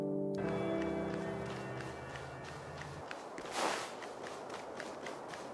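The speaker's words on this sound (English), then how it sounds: "Hoyoverse has decided to give her own special footstep sound effect." Light barefoot footsteps in the video game Honkai: Star Rail patter in a steady, soft rhythm, fading in as a musical tone ends, with one slightly louder step partway through.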